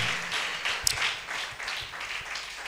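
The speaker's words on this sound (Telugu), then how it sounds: "చప్పట్లు కొట్టని బిగ్గరగా దేవునికి" A congregation at a Sunday worship service claps together for God, a steady wash of applause at moderate volume that carries on throughout.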